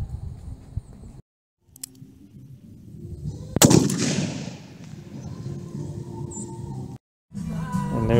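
A .357 Magnum Smith & Wesson Model 686 revolver with a 6-inch barrel fires a single loud shot at a gallon jug of water, a sharp crack followed by a rumbling decay outdoors, with quieter handling noise before and after.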